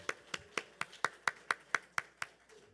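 Applause in a church during a Sunday service comes through as about ten crisp, evenly spaced claps in a steady rhythm, close and distinct.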